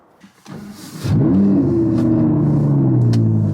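Audi R8 supercar engine firing up with a loud, deep roar after a brief quiet moment, then settling into a sustained, rising rumble as the car pulls away, heard close.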